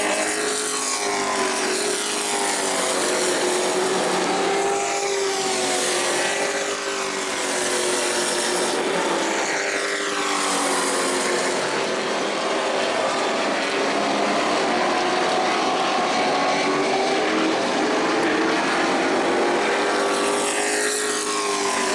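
Sportsman race cars at New Smyrna howl around the track in a loud continuous roar, with engine pitch sweeping up and down repeatedly as cars pass close by throughout.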